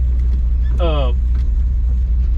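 A 2-ton log truck with a two-speed axle rumbles along in a steady, loud, close low drone, with a brief rising whine from the drivetrain partway through.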